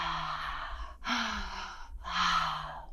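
Three deep, audible breaths of a slow breathing exercise, each a long airy inhale and exhale at close range, separated by brief pauses, with no talking.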